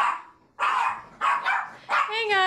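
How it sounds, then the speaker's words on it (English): Several dogs bark in short, loud bursts near a house after a doorbell, with a whining yip at the end; a voice is also heard among the barks. "the dogs are going wild"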